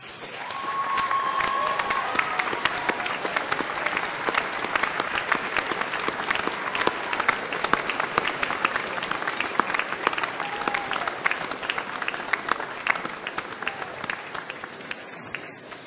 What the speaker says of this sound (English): Graduates, please stand, turn and offer your applause to the people who have supported you through your time at university